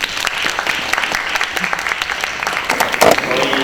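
At a high school humanities festival, a student audience gives loud, dense applause to welcome the club presenters to the stage. The clapping is close and sustained, with a brief voice near the end.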